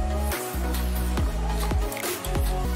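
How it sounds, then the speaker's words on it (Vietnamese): An automatic flush from a Viglacera V91 electronic toilet, a loud, continuous rushing of water lasting the whole stretch, with surging pulses and no voices. "Cảm biến nhận biết có người sử dụng, tự động xả nước"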